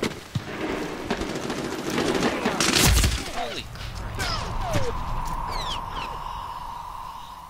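Bursts of gunfire and a heavy explosion crash through the middle of Medal of Honor video game action, followed by scattered shots and whistling sounds, with a voice talking over the action.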